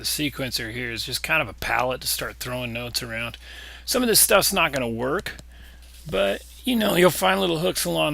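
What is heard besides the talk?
No everyday noise stands out behind the speech.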